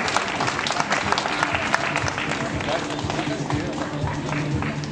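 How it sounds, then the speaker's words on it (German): Crowd applause for the stage winner at a Masters cycling stage race in Tirol, a steady dense wash of clapping that holds for several seconds at a fairly even level, close and continuous. "Dann kommt ein Applaus natürlich"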